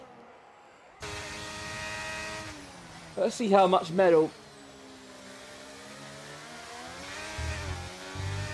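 Formula 1 race car engines in the F1 2023 video game at Abu Dhabi drone steadily, with a sharp burst of revving and gear changes midway, under continuous commentator talk.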